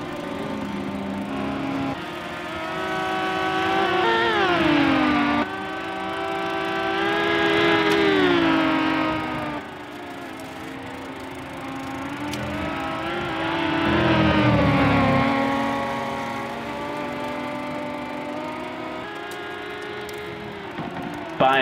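Racing cars from Modena run close together on a circuit, their engines droning and swelling as they pass in waves of rising and falling pitch, with faint commentary underneath.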